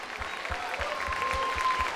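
A church congregation claps continuously in a steady, fairly even rhythm, filling the room with moderately loud applause.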